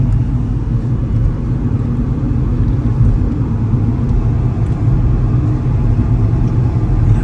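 A small car's engine rattles and rumbles steadily at close range over a rough, bumpy country road, a loud continuous drone with no pauses.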